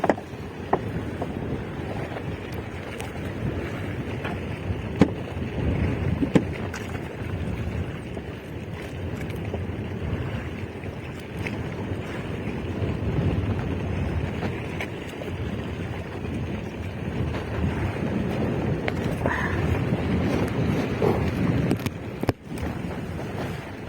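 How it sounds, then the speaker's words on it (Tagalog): Big sea waves surge around a small fishing boat at sea, with a steady broadband wash of water and wind buffeting the microphone, loud and continuous, and no voices. "Grabe yung alon. Malaki."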